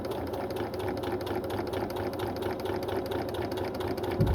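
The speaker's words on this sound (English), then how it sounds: "we are going to sew that way up on the machine, and we are just going to run our stitching just inside of that forward line there" A sewing machine runs steadily as it stitches up a shortened trouser hem, a close, even mechanical whir with fast regular needle clatter throughout and no talk.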